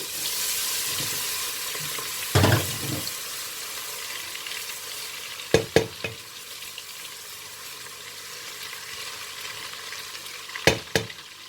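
Ginger and garlic frying in a pan, a steady close sizzle throughout, broken by a few sharp clinks and stirring knocks.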